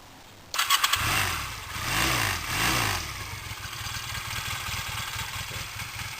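A Honda CB250 Nighthawk motorcycle cranks briefly, fires up and revs a couple of times, then settles into a steady, close, fairly quiet idle, with no talk.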